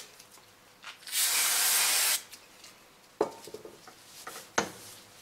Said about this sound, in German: Vielleicht mal kurz den Bremsenreiniger und mal kurz durchblasen.